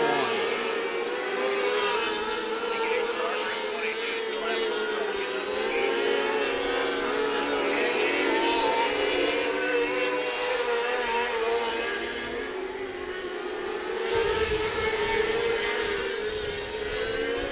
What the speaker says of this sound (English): we're going to get the motors back warmed up